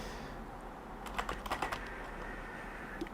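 Keys clattering on a computer keyboard, a quick cluster of light clicks in the middle, then a lone tap near the end, faint and close over a low steady hum.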